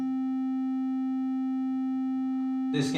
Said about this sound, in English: This is a synth wave for you to listen.